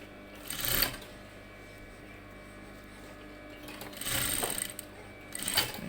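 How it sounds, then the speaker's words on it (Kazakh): A domestic sewing machine stitching a skirt near a zipper, giving short bursts of fast mechanical whirring and clatter, close by, separated by quiet pauses. "лапкамыз көтеріп кейін қарай тігеміз"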